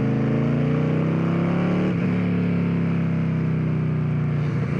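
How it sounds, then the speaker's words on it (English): A Victory Cross Country touring motorcycle accelerates, its loud, steady engine drone rising slightly in pitch with a brief dip partway through as it shifts, heard up close with wind noise and no talk. "He'll hear me accelerating from 8 miles away."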